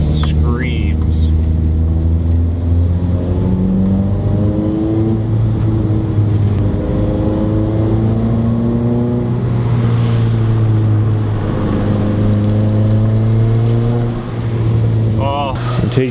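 A Mazda Miata's engine and exhaust run loud and close for a sustained stretch, the pitch climbing and falling through several revs with a raspy, throaty drone.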